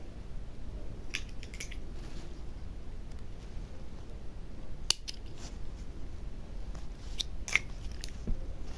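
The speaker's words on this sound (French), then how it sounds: "on coupe le fil" A pair of scissors snips thread, a few quick, crisp clicks spread out over a soft background hiss, close up and fairly quiet, with no talking.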